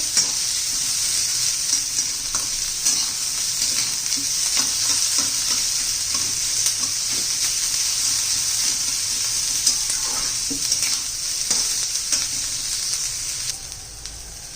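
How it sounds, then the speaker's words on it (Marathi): Onion and garlic fry hard in oil over a high gas flame for bitter gourd stir-fry, a loud continuous sizzle with frequent crackles and scraping stirs of a spatula across the pan. "आणि लसूण पण घालून घेऊ छान असा मोठा गॅसवर कांदा चांगला लाल करून घेत आहे"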